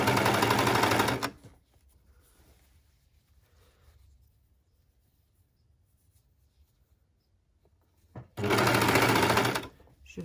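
A sewing machine runs a T-shirt shoulder seam in two short bursts of loud, fast stitching, one at the start and one near the end. Between them is a long near-silent pause with faint handling sounds.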